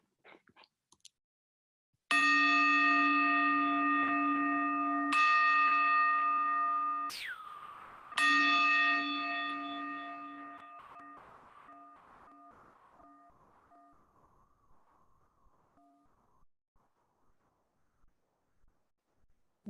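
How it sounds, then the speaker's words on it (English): Three meditation bells strike in turn, each a bright metallic ring with rich sustained overtones. The third rings out and fades slowly into silence, alone with no voice. "in just a moment, you'll hear 3 bells"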